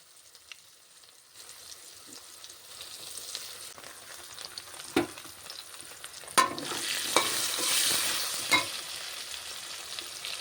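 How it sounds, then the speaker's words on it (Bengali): Potatoes frying in oil with salt: soft sizzle building to a louder hiss, punctuated by a few sharp clinks and scrapes of stirring. "এখন এর মধ্যে ভাজা হবে আলু"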